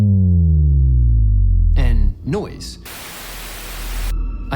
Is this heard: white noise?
yes